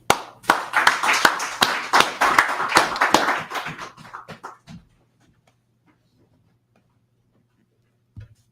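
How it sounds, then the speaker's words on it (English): An audience gives a round of applause at a religious feast closing gathering, loud dense clapping that fades out after about five seconds, followed by near silence and a brief thump at the end. "With a round of applause."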